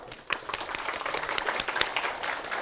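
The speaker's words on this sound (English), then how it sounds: "So let's give him a round of applause." Audience applause, a dense wash of many hands clapping that starts abruptly and holds steady at moderate loudness.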